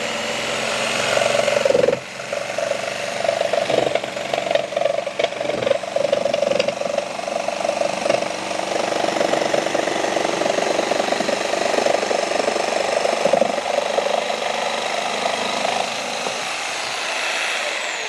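A Bosch Pro GST 90E jigsaw at speed setting 3 with pendulum action off cuts through an 18 mm board, a loud, steady buzzing rasp that runs almost without pause, with a brief dip near the start.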